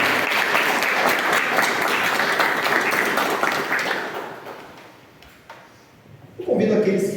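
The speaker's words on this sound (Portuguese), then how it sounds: "Uma salva de palmas." A church congregation claps at a Pentecost service, a loud dense round of applause that thins and fades away, followed by a brief burst of voices at the end.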